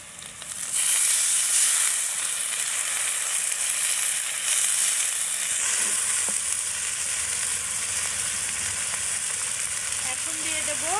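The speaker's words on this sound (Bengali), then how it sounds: "আমার কিন্তু এই যে পেঁয়াজ মরিচটা ভাজা হয়ে গেছে। এখন আমি হালকা করে পানি দিয়ে দেবো।" Water poured into a pan of frying onions and green chillies, bursting into a loud steady sizzle that hisses on continuously, close up, with faint clatter late on.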